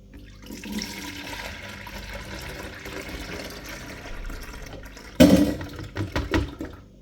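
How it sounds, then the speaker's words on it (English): Liquid pours through a strainer, starting as a soft trickle and then bursting into a louder splashing gush near the end, close by with no talking. "So I'm straining it one last time."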